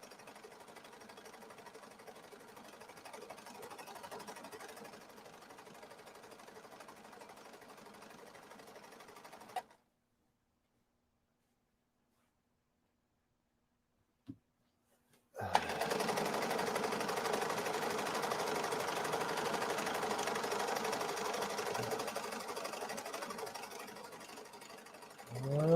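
A Husqvarna sewing machine stitches at high speed in steady bursts, a brief stop of several seconds separating two runs, with an even mechanical whir throughout and no talk.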